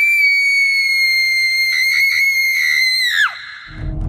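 A long, piercing, dramatized scream of terror, held at a high pitch for about three seconds before it breaks and drops away, followed by faint low rumbling.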